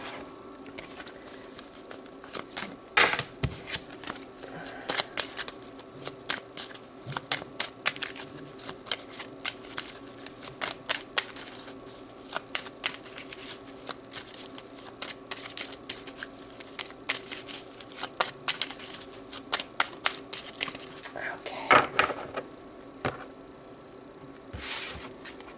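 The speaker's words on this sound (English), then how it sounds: "let's draw some cards" Tarot cards are shuffled over and over nearby with a soft riffling and slapping, then cards are drawn, and the quick flutters and taps repeat in uneven bursts throughout with no voices.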